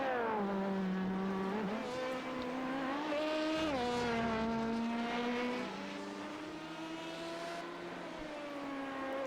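An LMP2 sports prototype race car passing on a circuit, its engine a loud near whine that shifts pitch through gear changes as it goes by, alone without talk.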